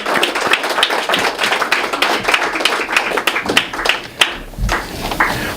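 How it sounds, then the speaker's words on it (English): Audience at an event applauds for Reverend Pinckney, close, crisp individual hand claps in an uneven burst with a few louder sharp slaps standing out. "let's give him another round of applause now"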